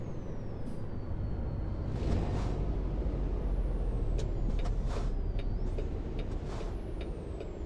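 Truck air brakes in American Truck Simulator give brief hissing releases over a steady low engine rumble, with faint high whines drifting in the background.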